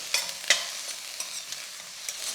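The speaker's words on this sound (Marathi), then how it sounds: "घालूया शिमला मिरची आणि मटार आता या दोन्हीलाही असंच दोन तीन मिनटं फ्राय करू" Capsicum and peas sizzle softly in a hot pan while a spoon stirs them, with several sharp scraping clicks over the steady frying hiss.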